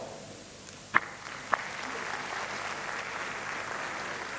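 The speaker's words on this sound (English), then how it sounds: "One round of applause for everyone talk." Applause at an IELTS training gala, a faint, steady wash of clapping with a couple of sharper claps standing out early on.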